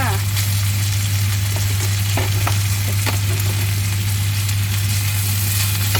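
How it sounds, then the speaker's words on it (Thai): Rice stir-fried with chili in a hot pan, a loud continuous sizzle with scraping spatula strokes, under a steady low hum from the stove or nearby machinery. "ใส่ข้าวลงไป อันนี้ผัดเลยค่ะ"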